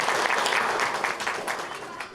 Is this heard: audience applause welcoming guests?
yes